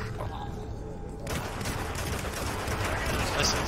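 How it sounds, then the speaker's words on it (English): Video game gunfire sounds as dense, continuous bursts of shots that grow fuller and louder after the first second and keep going to the end, with voices mixed in. "Listen, stop shooting."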